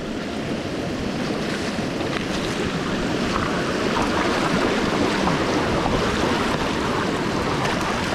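A Revolt electric motorbike pushes through deep water, a continuous loud rush and churn of splashing mixed with wind buffeting the microphone, with no talking.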